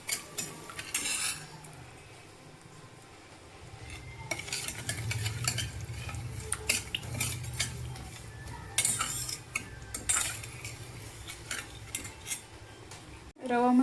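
A spoon stirs and scrapes semolina roasting in ghee in a metal pan, with soft sizzling beneath, intermittent clinks of utensil against pan, and a clatter at the end.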